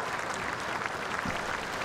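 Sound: crowd applause at show jumping event

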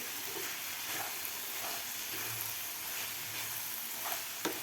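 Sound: cashews sautéing with tomatoes in a pan

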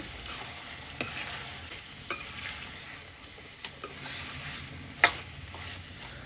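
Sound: stirring curry after adding turmeric

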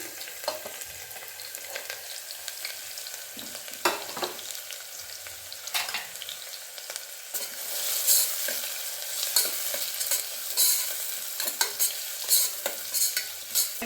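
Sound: onions frying in a pan for bitter gourd gojju

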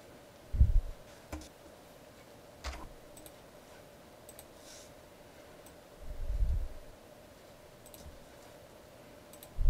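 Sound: computer mouse clicking in estimating software

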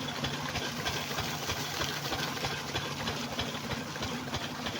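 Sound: shallow pump engine running to irrigate papaya field

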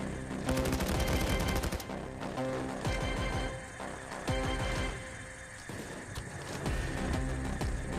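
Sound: gunfire in the video game Payday

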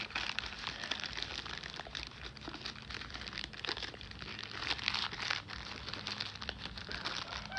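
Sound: unwrapping Tenda A9 repeater from plastic bag

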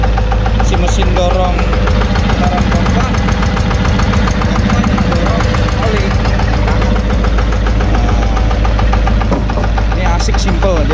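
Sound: Yanmar rice mill diesel engine running

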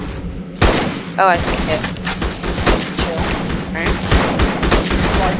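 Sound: explosions in Roblox tower defense video game

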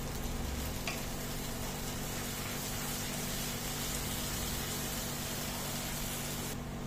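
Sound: frying spices and tomatoes in a pan

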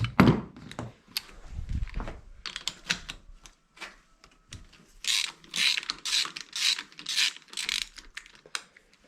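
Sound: ratchet wrench removing motorcycle spark plug, 18 mm socket

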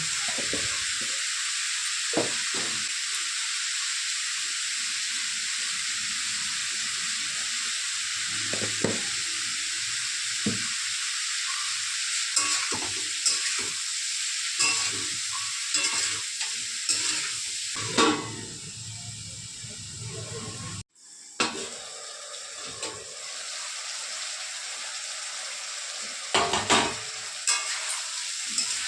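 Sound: frying cauliflower stalks with turmeric and salt

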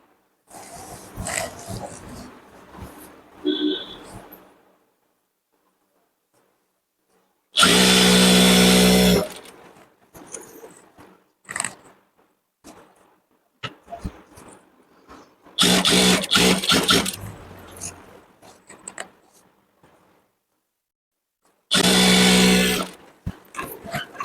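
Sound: sewing machine stitching

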